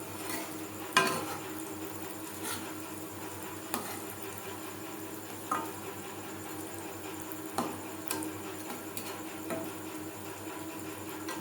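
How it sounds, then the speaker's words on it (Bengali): Vegetarian banana flower chops fry in oil over a low-medium flame, giving a soft, steady sizzle broken every second or two by faint crackles and pops, with no talking. "আমি চপগুলো ভাজছি লো টু মিডিয়াম ফ্লেমে।"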